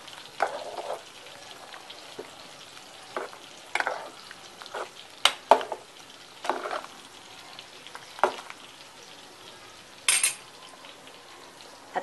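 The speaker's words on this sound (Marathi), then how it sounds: "आता एक व्यवस्थित उकळी घेतली।" Village-style chicken curry gravy, salted, simmers in a pot with a soft bubbling bed, while a spoon stirs and clinks against the metal in irregular bursts. No talking.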